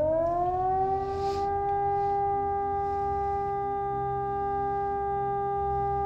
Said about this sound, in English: Until Batu wakes up to the sound of a siren at night.